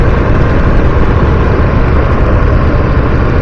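A Ducati Streetfighter V2 sport bike engine accelerates in third gear around 30 mph, a steady, loud low-frequency roar with constant wind and road noise and no pauses throughout.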